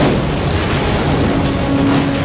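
A dense, sustained roar of an energy blast like matter meeting antimatter, loud and continuous for its whole length with no talk over it.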